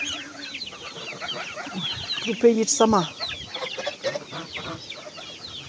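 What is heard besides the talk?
chickens clucking while ducks eat zucchini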